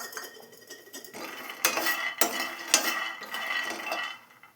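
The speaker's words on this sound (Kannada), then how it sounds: "ಮೊದಲು ಒಂದು ಪ್ಯಾನ್ಗೆ ಕಡಲೆ ಬೀಜ ಹಾಕಿ ಹುರ್ಕೊಳ್ಳೋಣ." Peanuts roasting in a dry pan, stirred with a metal spoon: repeated scraping and clinking strokes against the pan, close and fairly loud, with a few sharper knocks and no voices.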